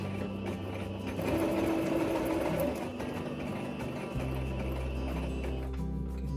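A sewing machine back stitching a satin bonnet runs in a steady, close, continuous whir that shifts pitch partway through as the stitching direction changes.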